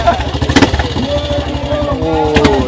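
A motorcycle engine runs at a steady idle with a low, throbbing rumble at a motorcycle event in Batu Pahat, while people talk nearby over it.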